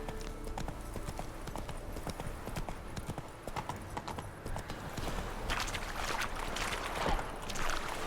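Roach, a horse in the video game The Witcher 3, clip-clops along at a steady walking rhythm, hooves moderately close over a busy ambient bed with faint background voice.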